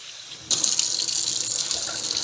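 Tap water runs steadily into a pan of rice, a constant close hiss and gush starting abruptly and continuing without pause, with no talking.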